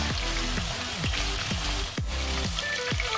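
Onions frying in a pan with ginger and garlic, a loud, close sizzle with rhythmic stirring strokes roughly every half second, heard alone without speech.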